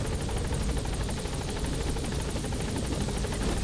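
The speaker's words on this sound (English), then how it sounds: "Support helicopter has arrived. I see it." A support helicopter arrives in the video game Metal Gear Solid V, its rotor chopping as a steady, loud, continuous drone throughout, with no talk over it.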